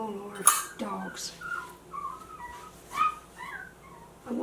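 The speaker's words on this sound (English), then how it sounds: "Oh Lord, dogs." Dogs whimpering and whining in a home kitchen, several high thin cries and squeaks spread over a few seconds, fairly close but soft, with faint clatter of baking utensils.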